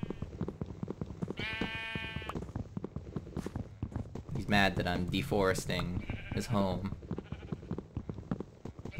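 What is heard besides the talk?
sheep bleating in the video game Minecraft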